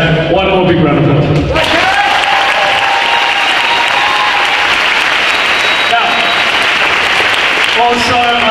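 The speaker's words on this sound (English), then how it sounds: "One more big round of applause." Sustained applause from an audience at a school event fills the whole stretch, loud and steady, with a shout and some voice over it near the start before the clapping swells.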